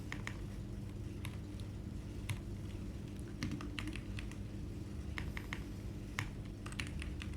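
Close, quiet typing on a computer keyboard while writing Java code: irregular clusters of light key clicks over a low steady hum, no talk.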